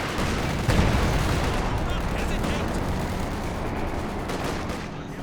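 An LEFH artillery barrage in Company of Heroes 2 pounds away in a rumbling series of heavy booms and crackling impacts that blur into a continuous roar, with a caster talking over the bombardment.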